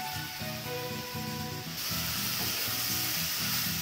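Boiled soybeans and vegetables fry in a pan with a loud, continuous sizzle and hiss that grows stronger partway through, alongside rhythmic stirring.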